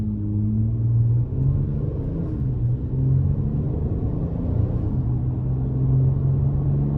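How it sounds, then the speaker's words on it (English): A 2025 RAM 1500 Big Horn with the 3.6 V6 eTorque pulling away under light throttle in sport mode, a steady low engine drone heard from inside the cab, rising gently and holding without voices. "So not bad acceleration. I just gave it a little push there."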